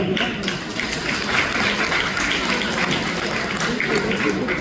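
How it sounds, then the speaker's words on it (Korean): Guests at a wedding ceremony keep up a dense, continuous applause close by. The clapping fills the room without a break. "다시 한번 큰 박수 부탁드립니다"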